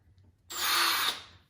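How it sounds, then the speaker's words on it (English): A power drill with a small bit whines in one short, high-pitched burst of about half a second, drilling a hole into a tin can, close up, after a moment of near silence. "we're going to drill 2 small holes into this can for screws"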